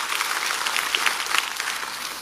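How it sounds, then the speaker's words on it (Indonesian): A church congregation at an Indonesian Sunday service claps together in steady, dense applause that holds at an even level throughout. "Beri tepuk tangan yang meriah buat Tuhan."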